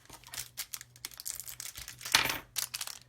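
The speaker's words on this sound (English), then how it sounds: "So I'm going to cut this bag open" A small plastic parts bag for a Tamiya Land Rover Defender CC-01 model kit is cut open, giving close, quiet crinkling and snipping rustles in a steady run of short bursts with no talking.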